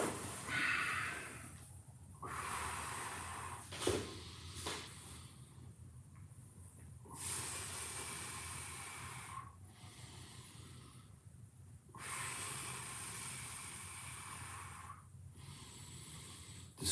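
Forceful breaths blown out in repeated bursts during a stretching workout, each a few seconds long with short pauses between, close and fairly loud with no talk.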